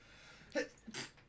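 A single sneeze with a sharp intake and burst, followed by a softer second exhale, close but fairly quiet, in a podcast conversation setting.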